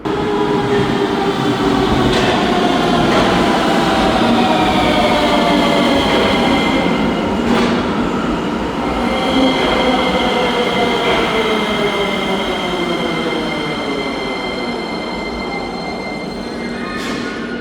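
Rusich 81-740 metro train in the Sofia Metro, a loud continuous rumble of wheels on track with rising and falling motor whine, occasional rail clicks and brief wheel squeal, steady throughout without speech.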